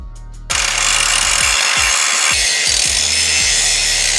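Angle grinder biting into welds on a Toyota Tacoma skid plate, loud and close: a steady high abrasive whine with repeated short chattering bursts as the disc catches the metal, running without a break after a brief quiet start.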